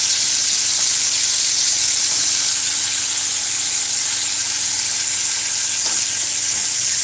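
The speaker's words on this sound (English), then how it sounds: "stir fry the sausages" Uncured beef sausages stir-frying in a hot pan give off a loud, continuous sizzling hiss, close and unbroken for several seconds with no speech.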